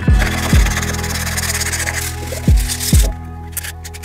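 A wooden frame is hand-sanded with sandpaper, giving steady abrasive rubbing with four sharp, loud strokes standing out near and close, and no talk.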